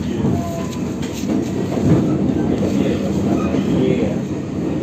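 The Minangkabau Express airport train at Padang station in Sumatra, heard as a steady, loud rolling rumble with some wheel noise and faint background voices.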